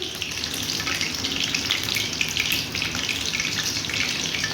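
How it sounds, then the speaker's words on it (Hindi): Potato donuts fry in hot oil over a low flame with a steady, dense sizzle that stays even and close throughout, with no voices. "पहले इसकी हम एक साइड को फ्राई करेंगे, उसके बाद हम इसको दूसरी साइड से फ्राई करेंगे।"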